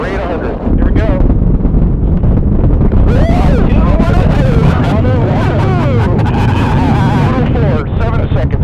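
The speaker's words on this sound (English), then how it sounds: "Command engine start. Engine start." Space Shuttle Atlantis main engines igniting at launch on mission STS-122, heard as a loud, continuous roaring rumble with wind buffeting, while voices talk over it throughout.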